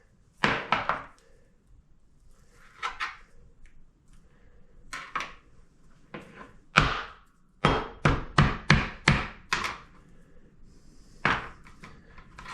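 A piece of raw beef for jerky pounded with a meat tenderizing mallet on a cutting board, a run of sharp close thuds: a few scattered blows, then a quick burst of about seven rhythmic strikes and one last hit.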